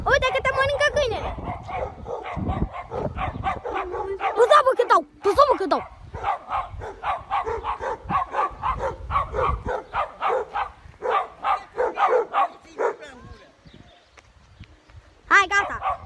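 A dog barks repeatedly outdoors in short sharp bursts, mixed in and under several people talking loudly nearby.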